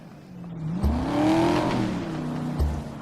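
A car engine revs up and falls back in a rising, whirring sweep, moderately loud and close, with a couple of short thumps marking the start and end of the rev.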